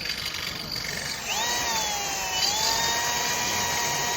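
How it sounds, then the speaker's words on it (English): A power drill set to first gear bores through metal, a loud, steady motor whine that shifts pitch as the trigger is eased and the bit bites in, continuing unbroken without speech. "you want to put your drill on the first gear here, and you want to just pull the trigger a little bit"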